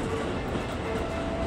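A Keikyu New 1000 series train crosses the Yatsuyama bridge into Shinagawa, heard as a steady, loud rumble of wheels and rail noise with no pauses, no speech over it.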